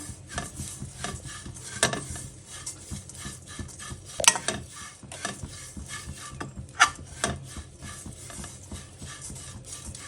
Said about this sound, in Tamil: இப்போ சென்னாக்குண்ணி வறுபட்டுருச்சு